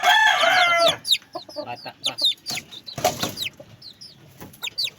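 A young gamecock rooster held in someone's hands clucks and squawks in short, irregular bursts, close and fairly loud, with a louder outburst at the start and someone speaking briefly in between.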